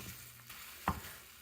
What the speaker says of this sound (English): You can hear it's already sizzling.